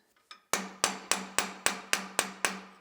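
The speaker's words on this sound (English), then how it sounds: "we'll go to the other anvil and forge the loop out" Hammer blows shaping soft metal on an anvil, roughly eight sharp ringing strikes in a steady rhythm, close and loud with no talking.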